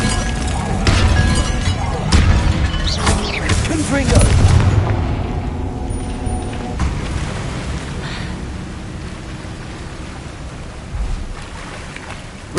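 Confringo blasting spell explosions in the video game Hogwarts Legacy: loud booming blasts with crackling debris early on, fading into a softer rumbling tail.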